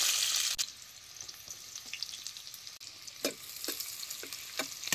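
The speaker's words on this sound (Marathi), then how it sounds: "आता हे तूप गरम झाले, ह्याच्यात आता मिरच्या टाकतो।" Green chillies frying in hot ghee, a soft continuous hiss and sizzle heard up close, with scattered light clicks and taps from a spoon in the pan, no talking.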